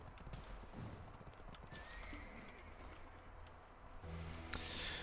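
A horse in the video game Black Desert neighs and whinnies, with hoof clip-clop beneath, fairly close over a steady game ambience with no talk.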